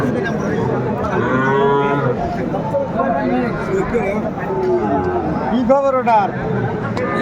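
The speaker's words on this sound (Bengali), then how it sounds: "এ পাশে একটা ষাঁড় বাচ্চা" A young bull calf moos repeatedly at a busy rural cattle market, its drawn-out bellows rising over a steady hubbub of crowd chatter and nearby voices.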